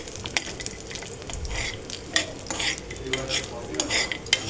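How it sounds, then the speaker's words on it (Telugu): Cashews, cardamom pods and almonds fry in ghee, a light sizzle under repeated stirring and scraping of a spoon against the pot, close and uneven, with no speech. "జీడిపప్పు, యాలక్కాయలు, బాదం పప్పు ఇవి నెయ్యిలో వేసి వేయించుకోవాలన్నమాట దోరగా."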